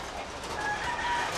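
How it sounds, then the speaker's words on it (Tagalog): Birds at a backyard chicken coop during heavy rain: faint chirping calls over a constant rushing wash of rain noise, distant and brief. "Ayun yung mga ibon"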